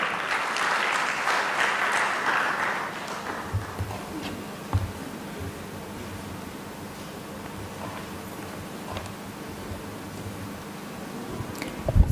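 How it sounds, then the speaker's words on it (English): Conference audience applauding to welcome the first panel moderator at a geopolitics conference in Kampala, clapping strongest at the start then thinning into a few scattered claps and room noise. "give me a bigger round of applause as we welcome our very first panel moderator"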